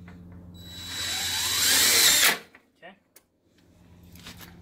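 A power drill drives screws while a screen door is installed, a rising whirring run that cuts off abruptly, followed by a few brief clunks and low handling noises.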